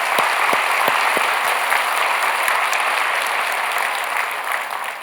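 Church congregation applauds its youth group at a special dawn service, a steady wash of clapping throughout, a few sharper claps near the start, fading slightly at the end.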